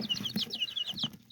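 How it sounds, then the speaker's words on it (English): Several Sapphire Gem chickens cheep and cluck softly close by in quick, irregular bursts, with faint low knocks underneath. "They're a real pretty chicken when they're fully grown."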